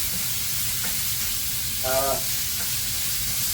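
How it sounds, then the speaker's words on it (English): Hamburger meat fries in a pan with a steady, loud sizzle throughout, plus a brief stirring scrape near the middle. "We're just gonna fry the hamburger meat up real good"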